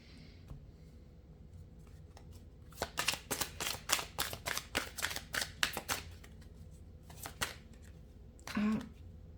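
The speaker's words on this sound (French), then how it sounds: "je vais tirer une carte pour voir l'évolution de votre relation" Tarot cards are shuffled in a quick run of crisp riffling bursts, close and fairly loud, followed by a single card being drawn, with soft room noise in between.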